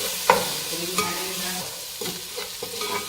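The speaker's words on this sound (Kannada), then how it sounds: "ಇದನ್ನು ಫ್ರೈ ಮಾಡಬೇಕು, ಬ್ರೌನಿಷ್ ಕಲರ್ ಬರುವವರೆಗೆ." Tomato with ginger garlic paste frying in a pan for chicken sukka, a steady sizzle with scraping stir strokes at irregular intervals, close and moderately loud with no voices.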